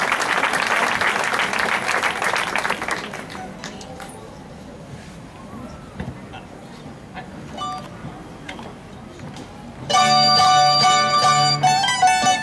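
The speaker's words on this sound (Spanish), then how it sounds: "Venga, venga, los aplausos." Applause from a crowd at an outdoor jota folk performance on a beach in Canet d'En Berenguer, a burst of clapping that thins out, then musical instruments begin playing.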